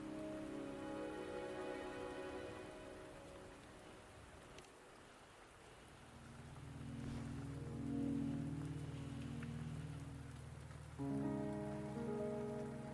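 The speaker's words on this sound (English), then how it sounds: "Don't worry, the rain won't last much longer." Rain patters steadily on surfaces in a video game, a soft continuous hiss beneath sustained musical tones and a low background drone.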